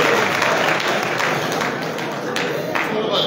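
A crowd at a youth empowerment event attended by the president claps in a loud, sustained burst of applause that holds steady with scattered sharper hand claps.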